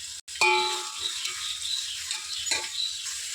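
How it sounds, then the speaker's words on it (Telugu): Sliced onions sizzle steadily in hot oil in a pan for chicken biryani, a continuous hissing fry broken by a sharp metallic clang of a spoon against the pan near the start. "ఈ ఆనియన్స్ బాగా మంచి బ్రౌన్ కలర్లో వచ్చేంత వరకు ఫ్రై చేసుకోవాలి"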